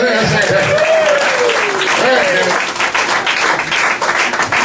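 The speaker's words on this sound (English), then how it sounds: "That deserves a round of applause." Audience applause at a roast, a broad wash of clapping with a voice speaking over it at first, then continuing on its own at fairly even loudness.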